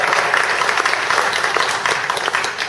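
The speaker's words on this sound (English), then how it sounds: "give her Beth a round of applause." A round of applause from attendees at a real estate investor group meeting, sustained and fairly loud clapping filling the room from start to finish, with no speech over it.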